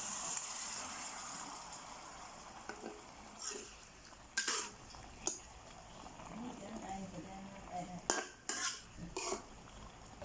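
Minced pork and fresh shrimp being stir-fried in a pan with stink beans, heard as faint, scattered clinks and scrapes of a utensil against the pan over a low background hiss, with a few louder knocks.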